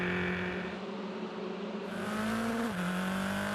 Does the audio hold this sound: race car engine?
yes